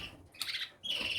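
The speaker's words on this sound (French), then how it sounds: "cet oiseau rouge là" A red pet bird chirps nearby in two short bright bursts separated by a brief pause, the second call more sustained and shrill.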